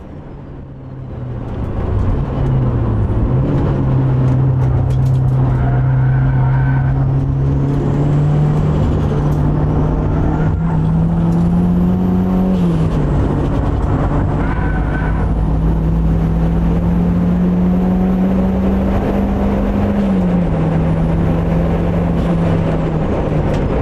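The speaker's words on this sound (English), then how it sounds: "So even though we're still running low boost, the car pulls pretty well at the top end" A Volvo track car with an HXS40 turbo, running low boost on a damp Thruxton circuit, drones loudly and steadily from inside the cabin, its engine pitch rising and dipping through gear changes for the whole stretch.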